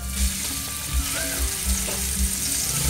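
Chili paste sizzles in red oil in a hot pan, with a steady frying hiss and rhythmic scraping thumps of stirring repeating every half second or so.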